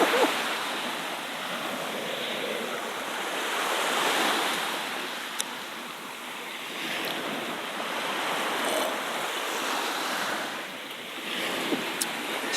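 Ocean waves break and wash up a beach in Jepara, a continuous rolling surf roar that swells and eases with the sets, with some wind buffeting the microphone and no speech.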